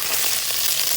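Garlic frying in a pan outdoors, a steady, dense sizzle that fills the moment evenly without a break and with no voices over it.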